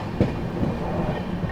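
The Prayagraj Express rumbles through Shikohabad Junction at speed, a steady loud clatter of wheels on rails with a sharp knock near the start and a continuous hum beneath, fairly close and without speech.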